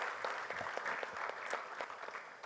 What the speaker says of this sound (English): Let's have a huge round of applause, ladies and gentlemen, for Mr. Pradeep with us.